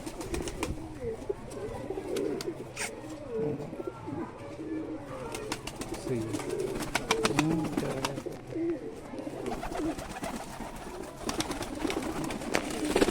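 A pair of Teddy pigeons, kept by a breeder, coo in repeated low, throaty rolls close by, amid faint chirps and scattered clicks and knocks around the loft.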